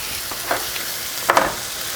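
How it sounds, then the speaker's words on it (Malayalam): Steady frying sizzle of tomatoes in a pan for fish masala, with a few scraping stirs, two louder clatters of a spoon, no voices. "ഞാൻ തക്കാളി ചേർത്ത് ഇളക്കുകയാണ്."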